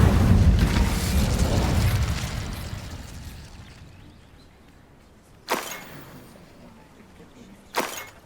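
An Incendio fire spell cast in Hogwarts Legacy, a roaring burst of flame that swells and then fades over a few seconds, followed by two sharp, separate cracks.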